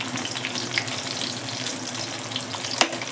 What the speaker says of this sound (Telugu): ఒక స్పూన్ జీలకర్ర తర్వాత వచ్చేసి ఒక చిన్న గడ్డ ఉల్లిపాయండి వీటిని మంచిగా కలుపుకుంటూ వేయించుకోవాలి